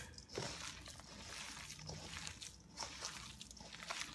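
Hamburger mixture stirred by hand in a bowl, giving soft wet squelching and sloshing sounds, quiet and close, with faint voice in the background.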